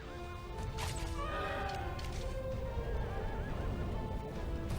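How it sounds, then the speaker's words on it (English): Horse neighing in Shadow of the Colossus, whinnies rising over a dense bed of game noise with thuds and crashing during a boss fight, no speech. "What is Agro doing? Dumb horse"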